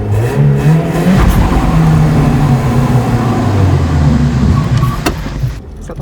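A BMW E36 doing a burnout, its engine revving hard and loud with a sustained rising and falling roar, close by, fading slightly at the end with no talking.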